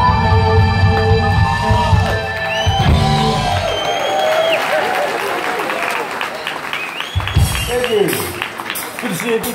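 A live concert crowd applauds and cheers loudly and steadily after a performance, with whoops and shouts rising over dense clapping and voices talking nearby.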